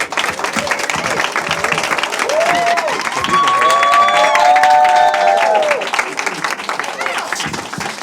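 Applause from a crowd at a graduation ceremony fills the space with steady, dense clapping that swells in the middle, with some cheering and voices mixed in.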